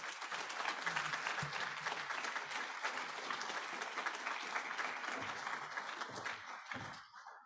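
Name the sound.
round of applause at graduation ceremony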